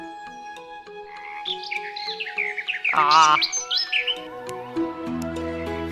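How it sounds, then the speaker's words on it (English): Birdsong from clickable birds in the Fox Tail video game: clear chirps and warbling trills rise over a steady musical background, with a brief spoken exclamation. "note that you get the bird song when you click on them"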